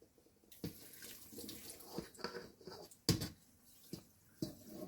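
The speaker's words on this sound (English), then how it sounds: "I'll just pour off this water" Water is poured off a thawing boneless snapper fish fillet into a sink, sloshing in uneven bursts with small clatters, close and fairly quiet, with no talk.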